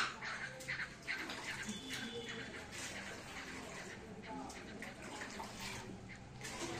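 Water being poured into a cooking pan of potatoes and sliced onion gives a continuous splashing, gurgling flow, close and fairly loud from start to finish.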